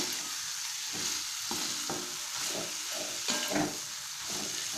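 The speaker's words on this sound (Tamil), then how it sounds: "முதல்ல வந்து பச்சை வேர்க்கடலையும் ஆயிலில் ஃப்ரை பண்ணிக்கணும்" Raw peanuts fry in hot oil with a steady close sizzle while a spoon stirs them in bursts of scraping and rattling against the pan.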